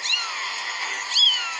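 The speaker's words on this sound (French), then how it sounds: "Un second chaton s'approche du bateau." A kitten just pulled from the water onto a boat gives two thin, high meows, close and fairly faint, with no talking over them.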